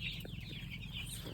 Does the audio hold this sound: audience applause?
no